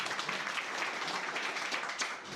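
Applause from a group of mobile repairing students for a fellow fresher who has just fitted a CPU, steady dense clapping at moderate level, with no talk.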